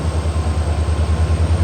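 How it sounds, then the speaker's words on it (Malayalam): A train pulls out of Melattur station on the Shoranur–Nilambur line, a low steady rumble with even rhythmic pulses of wheels on rail joints, heard close with no talk. "അപ്പോൾ നമ്മുടെ വണ്ടി മേലാറ്റൂർ സ്റ്റേഷനിൽ നിന്ന് പുറപ്പെട്ടിട്ടുണ്ട്"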